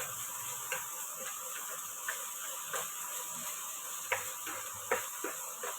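Snake gourd thoran being stirred and sautéed in a pan: light, irregular spatula taps and scrapes over a quiet, faint sizzle, close by with no voices.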